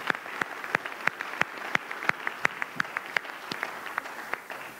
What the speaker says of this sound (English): yes, you may give it a round of applause.